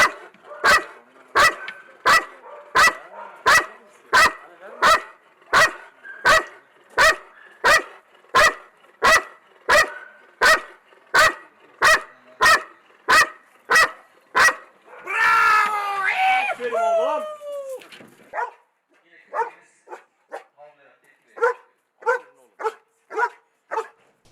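A search and rescue dog at a training workshop barks steadily and loudly in a rapid, even rhythm for about fifteen seconds, then breaks into a brief excited whine before a few more spaced barks.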